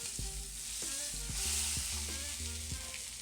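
A rack of lamb sizzles steadily in a pan with butter and rosemary, and a spoon taps the pan again and again while basting. No talk.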